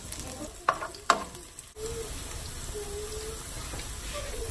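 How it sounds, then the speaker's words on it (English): Garlic and onion sauté in a pan with a steady, close sizzle. Two sharp clacks come from a utensil early on, and then the frying settles into an even hiss. No one speaks. "Let's saute some garlic and onion."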